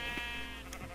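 A sheep bleats in a video game, one brief wavering bleat that is loud and close over a steady game soundtrack.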